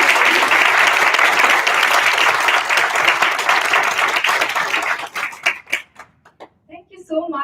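An audience at a panel discussion on women in autonomy and transportation gives a big, sustained round of applause that breaks into scattered individual claps near the end, with a voice briefly under it.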